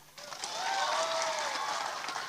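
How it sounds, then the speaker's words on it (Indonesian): A church congregation applauds a singing performance during a service, a dense wash of clapping that swells in after a brief pause and holds steady and fairly loud to the end. "Tepuk tangan dulu."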